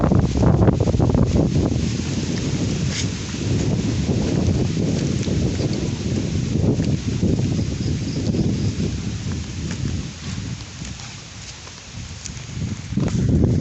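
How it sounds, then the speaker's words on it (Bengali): Strong wind roars loudly and steadily into an outdoor microphone during a thunderstorm with lightning, gusting throughout with buffeting low rumble and no speech. "প্রচুর বাতাস হচ্ছে দেখতে পারেন"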